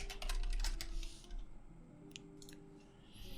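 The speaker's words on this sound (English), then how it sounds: "you want to just type in Oberlo" Typing on a computer keyboard: a quick run of soft, close clicks and taps, then a few scattered keystrokes over a faint hum.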